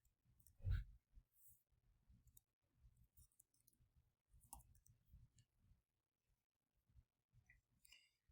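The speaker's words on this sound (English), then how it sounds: "And now I'm going to click down here." Faint computer mouse clicks, a handful of soft, isolated taps spaced across the stretch with quiet gaps and low background rustle.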